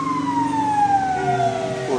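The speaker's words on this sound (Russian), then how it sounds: "поэтому они включают, чтобы доехать быстрее. Сирену, мигалки." A wailing emergency vehicle siren on a busy street in Yakutsk sweeps steadily in pitch, loud and fairly close, with traffic rumble underneath and no talk.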